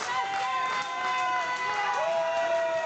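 Crowd at a pro wrestling show cheering and shouting in a steady, fairly loud wash of voices, with sustained yells rising above the general din.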